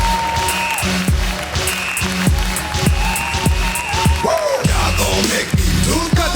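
Crowd at a comedy fundraiser show claps under loud rhythmic music with thumping beats, the applause sustained as a hype track plays throughout.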